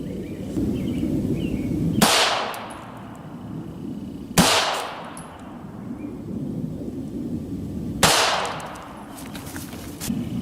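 Three loud, sharp shots from a Beretta 92 FS 9mm pistol with a 4.9-inch barrel, fired into a clear ballistic gel block during a Browning BXP 147-grain ammunition test, spaced a few seconds apart over a steady background rumble.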